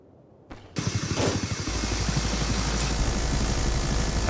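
A video game helicopter engine suddenly starts up, then settles into a steady, loud, close rotor chop and roaring drone that continues without pause.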